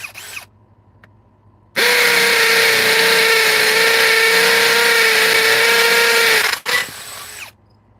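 Ryobi cordless power tool with its bit chucked up whirs loudly for about five seconds at a steady high pitch, then stops abruptly with a brief clatter and fading hum.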